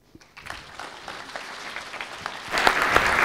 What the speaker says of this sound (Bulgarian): Аплодисментите са за нея